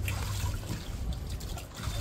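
Herbal water with turmeric and tulsi leaves is poured over a body during an outdoor bath, making a steady soft trickle and splash that runs continuously at close range.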